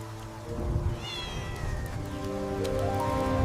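Several cats meow in overlapping, drawn-out cries over a steady hiss of background noise.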